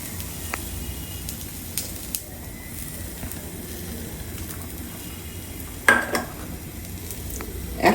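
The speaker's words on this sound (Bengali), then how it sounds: "প্রথমে আমি রসুন কুচি দিলাম, তারপর কাঁচামরিচ দিলাম" Chopped garlic and green chili sizzle steadily in a pan as sajna leaf bhaji gets started, with a soft continuous fry, occasional light stirs, and a sharp utensil clink near the end.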